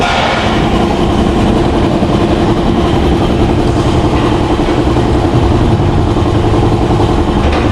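A motorcycle engine idles after a fully synthetic Castrol oil change, a loud, even close-up rumble running steadily with a mechanical ticking texture throughout.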